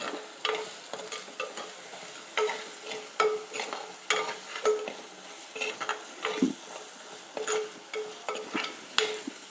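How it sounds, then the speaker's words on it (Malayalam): Coriander and chili powder sizzle in hot oil as a spoon stirs them in a pan, giving a soft frying hiss broken by repeated scraping strokes against the metal. "ഈ മല്ലിപ്പൊടിയും മുളക് പൊടിയും എല്ലാം കൂടെ ഈ എണ്ണയ്ക്കകത്ത് നന്നായിട്ടൊന്ന് വെന്ത് കിട്ടും."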